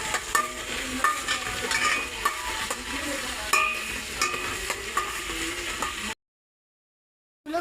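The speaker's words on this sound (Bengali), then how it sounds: "এবার আমরা পেঁয়াজ পোড়াবো।" Onions frying in ghee in a pan, with steady sizzling and repeated scrapes of stirring, close and fairly loud, then a short stretch of silence near the end.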